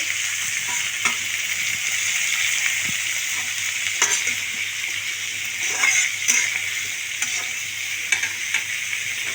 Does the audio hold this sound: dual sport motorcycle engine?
no